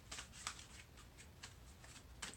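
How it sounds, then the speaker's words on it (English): Quiet riffling and soft snapping of a deck of Angel Tarot cards being shuffled, several bursts in an uneven rhythm, close by with no talking. "And I'm just shuffling."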